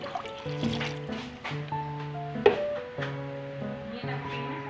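Water pours from a pitcher into tom yum soup in a steady trickle, heard under continuous background music.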